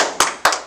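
A few people in a studio clap their hands together, three sharp close bursts of clapping spaced evenly apart over a short moment.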